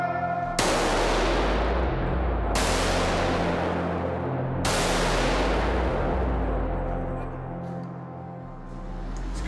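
Three loud gunshots from an indoor shooting range ring out, each a sharp crack followed by a long reverberant decay, spaced about two seconds apart.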